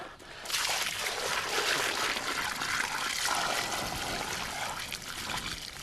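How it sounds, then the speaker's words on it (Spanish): Water poured into a small crater in a mound of freshly kneaded, trowel-smoothed adobe mud, a steady close trickling and splashing stream running for several seconds without talk. "echado el agua en el pequeño cráter que se hace para que alimente durante la noche este agua"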